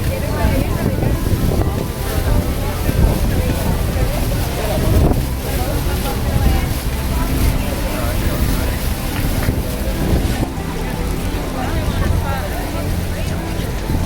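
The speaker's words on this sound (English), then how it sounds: "We are now on the boat, waiting for it to load so we can take off." A tour boat at Niagara Falls sits waiting to load and depart, its steady low rumble mixed with wind buffeting the microphone and people talking nearby.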